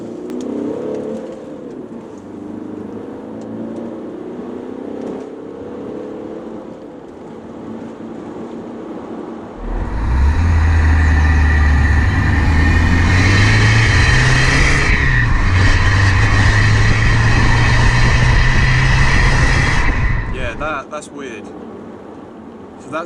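A remapped Audi A4 2.0 TDI accelerates hard from about ten seconds in, its diesel engine note climbing loud and steady and then easing off near twenty seconds, following a stretch of quieter cabin rumble.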